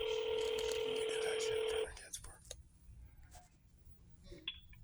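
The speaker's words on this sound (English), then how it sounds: "Wait while I transfer your call." Telephone transfer on a call to the Washington State Patrol: a loud steady tone holds for almost two seconds, then cuts to quieter line clicks and faint ticks.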